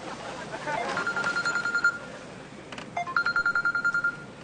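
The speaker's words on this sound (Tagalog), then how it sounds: "Oh, may tumatawag sa'yo!" A phone rings with an incoming call, playing a bright electronic ringtone of repeated beeping tones in two bursts, fairly loud and close over a faint background.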